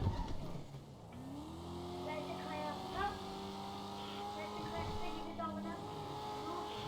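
Car driving in GTA 5 on the way to an airport: a steady engine drone with rising pitch as it accelerates and shifts, running continuously with someone talking over it.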